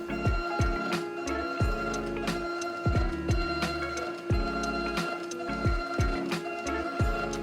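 A GoDE printer printing multiple rows onto textile ribbon makes rapid repeated ticking clicks and sharp mechanical taps in an uneven rhythm. The sound is close, continuous and heard alone.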